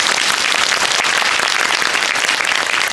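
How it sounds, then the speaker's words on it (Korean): Loud, dense applause from a cinema audience at a film talk event in a Dolby Cinema theater, a continuous roar of many hands clapping at once that holds steady from start to finish. "주성철 편집장님께 박수 한번"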